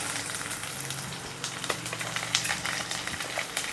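Garlic, dried red chillies and mustard seeds frying in hot oil: close, busy crackling and popping with a low hum under it, heard alone.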